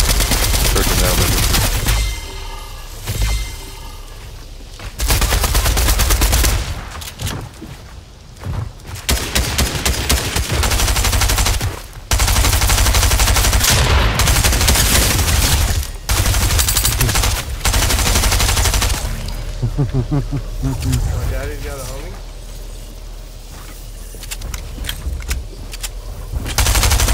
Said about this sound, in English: Put down some fire for me.